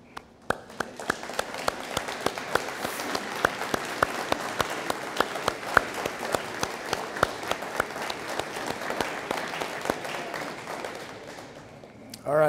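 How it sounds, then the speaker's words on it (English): Steady, sustained applause from a large audience at a police academy graduation ceremony fills the hall for about twelve seconds of dense overlapping claps, then fades as a voice begins. "would you mind just standing so we can give you a round of applause?"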